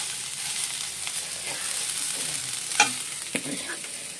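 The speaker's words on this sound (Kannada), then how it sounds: "ಇನ್ನೊಂದು ಸ್ವಲ್ಪ ಫ್ರೈ ಆಗಬೇಕು" Steady sizzling of food frying in a pan, with a couple of sharp scraping clicks from stirring near the end; no voices.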